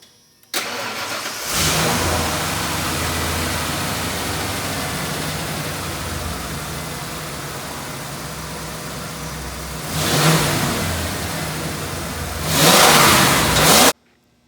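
A service truck engine cranks and catches after a tune-up with new spark plug wires, then settles into a loud, steady idle before two sharp revs near the end.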